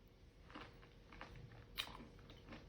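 Crunchy chewing of kefir mixed with muesli, with soft, irregular bites and mouth noises close to the mic. There is a sharper crunch near the middle. The chewing is quiet and no one speaks.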